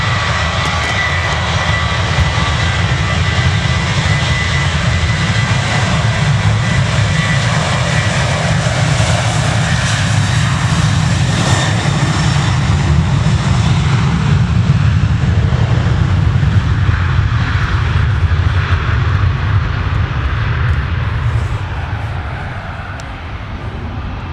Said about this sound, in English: The Jet 2 looks like it's going for departure.